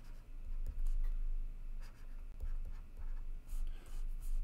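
Marker or chalk writing out a slope function on a board during an engineering lecture on thermal stresses and strains, a steady scratchy scrawl of strokes with short pauses over room hum, no talking.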